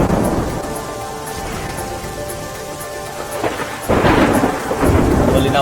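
Heavy monsoon downpour in Malpur, Aravalli, with dense steady rain hissing on surfaces and low thunder rumbling through it, swelling louder near the end.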